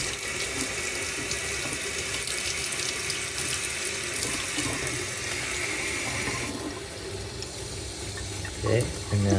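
Lukewarm water runs steadily from a tap into a sink, a continuous close gushing hiss that shifts slightly in tone partway through and ends with a few clunks.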